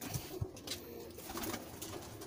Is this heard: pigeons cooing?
yes